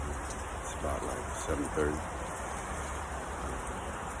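Steady rain falls outdoors on a morning, a soft continuous hiss throughout, with a voice talking briefly over it.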